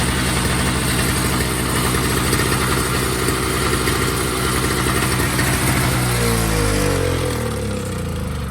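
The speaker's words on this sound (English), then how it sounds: "Those 2-stroke motors on these single stage snowblowers are loud." A two-stroke engine on a single-stage snowblower runs loudly and steadily at idle, a constant buzzing drone that shifts in pitch near the end, with no talking over it.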